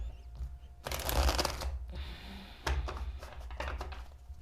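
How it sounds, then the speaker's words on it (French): Tarot cards being shuffled and drawn at a reading: two long bursts of riffling and slapping card sounds with softer taps and slides between them, close and moderately loud, no talking. "Je vais vous tirer quelques cartes du tarot pour voir s'ils ont d'autres messages"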